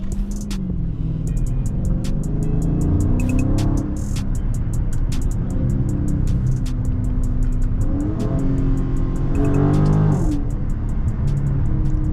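A 2023 Dodge Charger Scat Pack Widebody 392 Last Call driven on bald tires, its engine droning loud and steady from inside the cabin with a few rising revs and faint tire noise, no talking.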